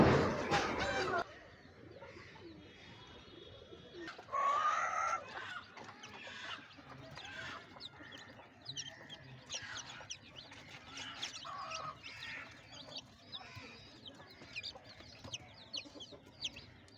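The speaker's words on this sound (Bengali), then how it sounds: "এখানেও কিছু মুরগি আছে" Hens cluck softly and intermittently around a poultry house after heavy rain, close and fairly quiet, with a brief louder burst early on and a person talking now and then.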